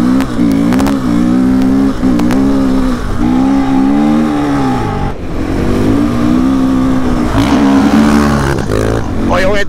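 A 500cc motorcycle engine screams at full throttle with its rear wheel spinning, a loud sustained rev with wavering pitch that dips briefly and surges again, close by and continuous throughout.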